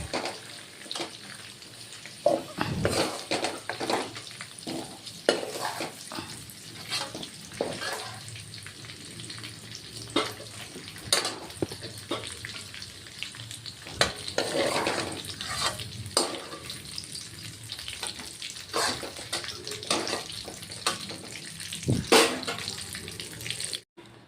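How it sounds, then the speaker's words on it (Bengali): Potato and papaya pieces fried in oil are stirred and lifted out of a pan: a steady, watery sizzle runs throughout, broken by frequent sharp scrapes and clinks of a utensil against the pan, with no talking. "আমার আলু আর পেঁপে ভাজা হয়ে গেছে এবার নামিয়ে দিচ্ছি"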